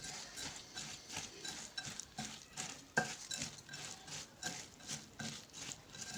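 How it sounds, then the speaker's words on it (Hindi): Sugar syrup being mixed into motichoor laddu boondi gives soft, repeated sticky stirring and scraping strokes in a steady rhythm, close and fairly quiet with no talk. "ऐसे चाशनी को ना थोड़ा थोड़ा ऐड करेंगे, ठीक है, और इसको मिक्स करते जाएंगे इसके अंदर"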